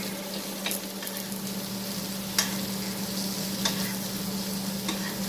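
A steak sizzles steadily in a hot pan as it is basted with garlic butter, a constant frying hiss broken by a few sharp spoon scrapes and spatters, with no one speaking.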